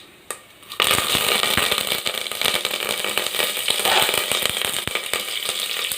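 Curry leaves hit hot oil while tempering, bursting into a loud, dense crackling sizzle after a brief quiet moment and continuing steadily up close.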